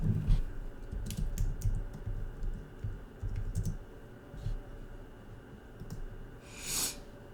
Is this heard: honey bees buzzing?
no